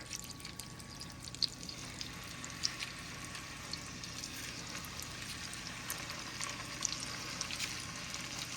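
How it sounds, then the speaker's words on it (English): Scallops searing in hot melted butter in a pan, a steady soft sizzle and crackle with scattered sharper pops, continuous and fairly quiet throughout, no talking. "Before it gets too hot, we're gonna go ahead and pop these scallops in there"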